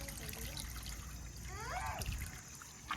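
Water poured out for pigeons in a rooftop loft: a soft, continuous trickle and splash at low level, with a brief higher chirping sound partway through and a low background hum.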